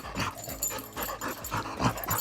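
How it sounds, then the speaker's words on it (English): A happy dog's play panting, sometimes called dog laughter: rapid breathy huffs in a quick, uneven rhythm, close and fairly soft, with no voices. "Dog laughter is also known as play panting, and dogs make this sound when they're especially happy."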